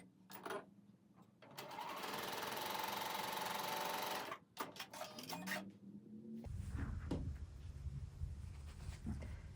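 A sewing machine stitches along a diagonal line on quilt charm squares for a patriotic red and white table runner, running in a loud steady burst of a few seconds, then short stop-start runs followed by rougher handling noise.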